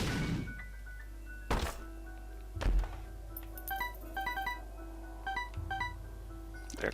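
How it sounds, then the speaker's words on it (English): Bombs explode in The Binding of Isaac: Afterbirth, two heavy booming thuds a second apart over quiet game music, followed by short chiming pickup-like tones. "Put a bomb here, might be secret room."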